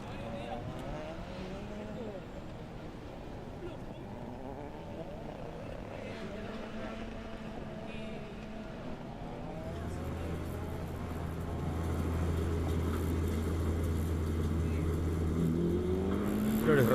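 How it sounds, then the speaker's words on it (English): TCR race cars roll onto the starting grid at a South American circuit, engines droning and rising into a louder, steady low rumble as more cars arrive, with a commentator talking over them. "cars arriving into the grid."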